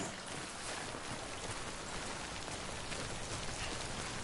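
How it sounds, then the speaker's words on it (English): Steady rain of timefall pours down in the Death Stranding game, a constant broadband hiss of drops hitting surfaces that runs unbroken and fairly even for the whole stretch, with no voices over it. "Don't stay out in the rain any longer than you have to."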